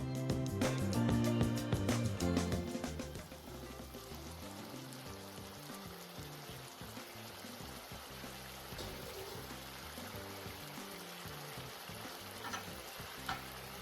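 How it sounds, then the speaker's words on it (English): Pork belly braised with honey bubbles in a covered pot on a high simmer, starting with a louder burst of sizzling and settling into a steady, softer bubbling and burbling that runs on without voices. "on a high simmer, put a lid on it and cook for 15 minutes"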